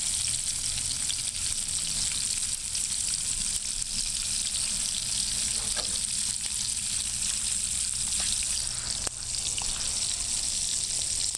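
Fish frying with no coating over a fire on a lake bank at night: a steady, dense sizzle and crackle runs throughout, close and fairly loud, with no talking.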